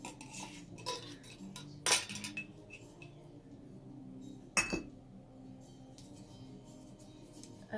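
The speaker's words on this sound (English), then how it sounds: "I'm just gonna like scrape it with my little metal spoon to get it in there" Metal spoon scraping crushed leaves into a container, soft scratchy scrapes and light clinks with two sharper knocks against the vessel, close and quiet.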